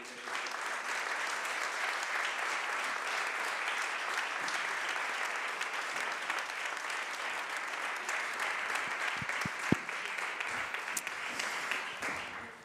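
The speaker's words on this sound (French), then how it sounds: "Je vous invite à les applaudir." An audience gives an afternoon's guests a sustained round of applause, a continuous wash of many hands that holds steady, with a few sharper individual claps standing out near the end.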